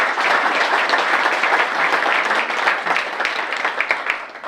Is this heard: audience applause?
yes